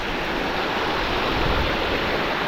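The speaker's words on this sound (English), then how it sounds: "the waves are taking them away from me" Ocean waves wash steadily onto the beach at Cayo Costa, Florida, a dense, continuous rush of surf that stays loud and close throughout with no voices.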